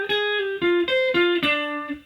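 Electric guitar plays a short lick in an even straight eighth-note rhythm, about eight clear, evenly spaced notes played close and alone with a slightly overdriven tone.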